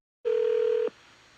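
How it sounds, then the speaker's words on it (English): A single steady telephone dial tone sounds clearly for about half a second and then cuts off, leaving a faint, quiet line hiss behind it as a phone number is about to be dialed. "I'm going to dial the phone number right now."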